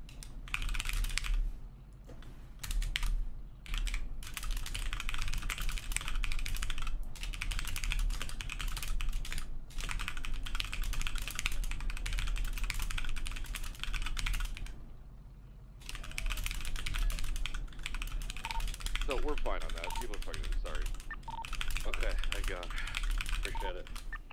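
Rapid, continuous computer keyboard typing while police reports are written in a NoPixel roleplay session, close and clattery with a few short pauses, while a person talks over it at times.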